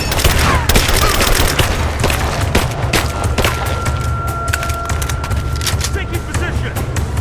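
Dense, continuous gunfire from the Rise of the Tomb Raider video game: rapid automatic bursts and booming shots over a heavy low rumble, with voices shouting over the firefight.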